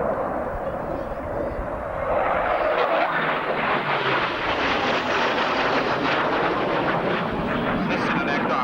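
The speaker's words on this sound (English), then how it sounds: "This Citadel aircraft was designed as a single-seat shipboard and shore-based, multi-role fighter and aircraft." A single-seat multi-role fighter jet roars past at an RAF Abingdon airshow in 1990, a loud, broad engine rush that swells after the first couple of seconds and stays strong, with a commentator's voice faintly beneath.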